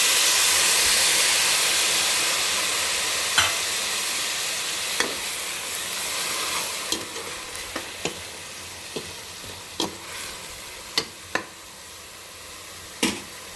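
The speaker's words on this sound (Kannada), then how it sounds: "ಇದಕ್ಕೆ ನಾವೇನು ಎತ್ತಿಟ್ಟಿದ್ವಲ್ವ, ಕುಂಬಳಕಾಯಿದು ಅದೇ ಒಂದು ನೀರನ್ನು ಇದಕ್ಕೆ ಸೇರಿಸೋಣ" Ash gourd halwa frying in a pan as reserved pumpkin water is added: a loud, steady sizzle that slowly eases, with sharp clicks of a spoon or pan scattered through the second half.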